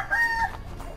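A black mamba chicken clucks in a short burst of close, fairly loud calls, with no talking over it.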